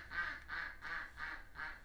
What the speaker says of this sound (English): The ducks have something to say about it.